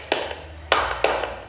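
Three sharp hand claps from a classroom clapping drill, the first alone and the next two close together, loud and near with no talk.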